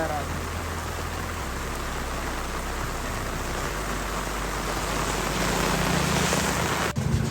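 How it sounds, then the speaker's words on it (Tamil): Heavy rain pours steadily in a flooded town area, a dense, loud, unbroken hiss that fills the whole stretch, with a faint thump near the end. "நல்ல மழை தான் பெய்து கொண்டிருக்குன்னா"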